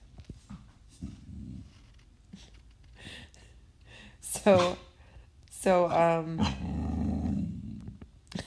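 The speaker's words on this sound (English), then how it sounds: "I don't know if y'all can hear my dog. She's trying to get me to play with her." A pet dog growls and barks playfully, wanting to play, in a home setting: short growls and a couple of loud, harmonic bark-growl bursts close by, following quiet speech from a person.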